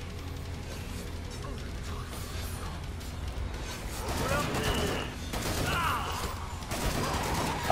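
Automatic gunfire rattles in Killing Floor 2, steady rapid bursts under someone talking, growing louder and denser in the second half with metallic clatter.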